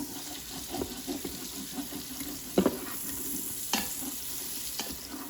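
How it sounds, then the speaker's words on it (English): Scraping along the bottom of an Instant Pot after cooking bacon, with soft repeated scrapes and a few sharper knocks of the utensil over a low sizzling background, close by. "I'm just gonna scrape the bottom of the pan"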